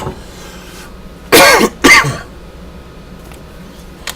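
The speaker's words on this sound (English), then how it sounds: "Coughing." Two harsh coughs close by, one right after the other, over a low background hum.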